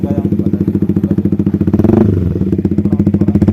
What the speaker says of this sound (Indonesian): Jadi kali ini gua mau pure sound knalpot Aero ya.